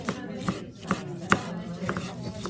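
Knife chopping vegetables on a cutting board for a grilled Azerbaijani eggplant salad, a handful of sharp, evenly spaced close-up thuds with quiet kitchen background and no talk.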